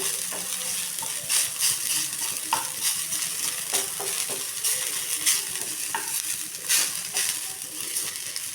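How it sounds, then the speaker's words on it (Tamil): Mudakathan greens sautéing in a pan for dosa batter, with a constant crackling sizzle and repeated scraping, turning strokes of a spatula at an even pace. "நல்லா திருப்பி விட்டு திருப்பி விட்டு நல்லா வதக்கிக்கணும்"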